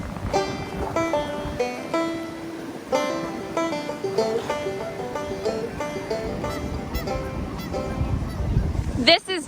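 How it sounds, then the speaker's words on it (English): A flock of geese honks repeatedly at Giant Springs, Montana, in 20-below winter cold, their calls dense and overlapping at close to mid distance, with a voice speaking beneath them. "And also these are all the geese."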